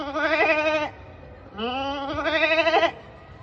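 On stage, a human voice imitates a goat: two long, quavering, nasal bleats, each close and loud, separated by a short pause.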